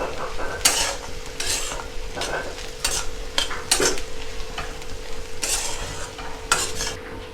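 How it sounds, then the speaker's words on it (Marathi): Onion chutney mixture being sautéed and stirred in a pan, a steady sizzle broken by repeated scraping strokes of a spoon at an irregular rhythm, close and moderately loud with no talking. "आणि आता या मिश्रणाला व्यवस्थित आपण परतून घेऊया"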